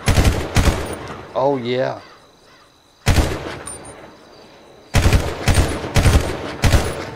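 Bursts of automatic gunfire from the GTA V video game, several loud, close volleys separated by short pauses, with someone briefly talking between them.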